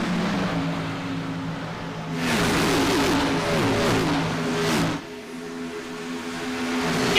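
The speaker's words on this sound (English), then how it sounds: "As you hear them engines roaring across the line" Stock car engines roar past the line during the Pepsi 200 Xfinity Series race at Atlanta, a loud, dense engine wash that swells as the pack passes in the middle and then settles back to a steady drone.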